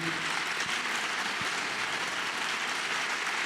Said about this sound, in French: Je vais vous demander, en l'applaudissant, d'accueillir Axel Kahn,